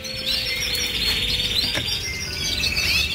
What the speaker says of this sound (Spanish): miráis los pajaritos